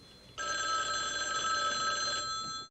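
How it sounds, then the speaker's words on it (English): A telephone bell rings once in a continuous electric trill of about two seconds, fairly faint and alone, in the 1983 film WarGames. "You gonna answer the phone?"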